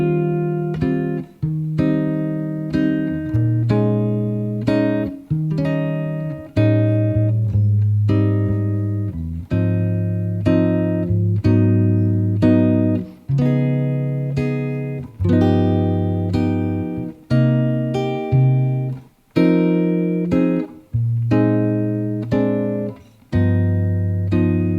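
Jazz guitar chords play the first eight-bar A section of a ballad, a steady sequence of rich, ringing voicings struck one after another, close and clear, with no talking.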